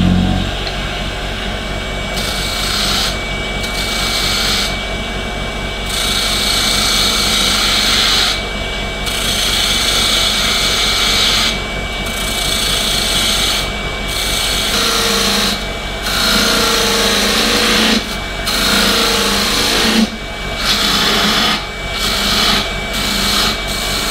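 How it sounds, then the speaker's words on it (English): Wood lathe spinning at 1800 rpm while a fingernail gouge shapes the cup of an off-center goblet, a steady motor hum under a scraping, rasping cut that repeatedly stops and resumes as the tool lifts away. "So I'm gonna take my fingernail gouge, I have the lathe speed up at 1800, and then we're just gonna shape the cup a little bit here."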